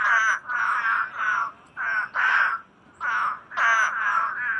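Hurter's spadefoot toads call in loud, repeated nasal bleats, each lasting about half a second, overlapping in a close chorus in a yard in Port Aransas.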